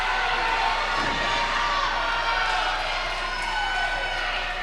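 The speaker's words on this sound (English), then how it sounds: "I like that we can hear the crowd here." A wrestling crowd at a steel cage match chants and cheers, a steady dense roar of many voices filling the whole stretch at moderate distance, with no commentary over it.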